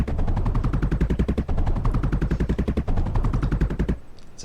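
Duo turrets in the video game Mindustry fire in rapid, loud bursts of evenly spaced shots, a dense machine-gun rattle that runs for about four seconds and then stops abruptly.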